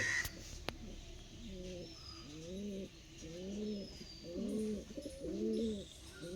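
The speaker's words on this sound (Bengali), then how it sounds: "পায়রাগুলো খুব সুন্দর," Pigeons of a flying breed, kept as sporting birds, give a run of soft, rhythmic coos close by, repeating several times in a steady rolling pattern with no talking over them.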